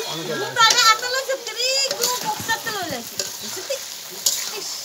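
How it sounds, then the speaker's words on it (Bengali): Country chicken meat fries and is stirred in hot oil, a soft sizzle with scraping strokes sitting under loud talk and children's voices close by. "বেশি মাংসটা বেশি কষানো হবে, ভালো করে কষানো না হলে ভালো লাগে না।"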